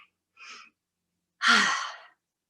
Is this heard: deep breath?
yes